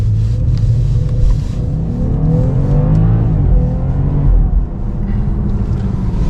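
BMW 540i accelerating hard from 0 to 60 mph, heard from the cabin as a loud, deep engine roar. Its pitch climbs steadily through the gears, with a brief dip at a shift, and there is no talking.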